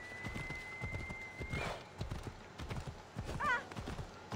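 Horse in the Assassin's Creed Odyssey game clip-clops with steady rhythmic hoof beats and lets out two whinnies, one midway and a louder one near the end, over a faint continuous tone.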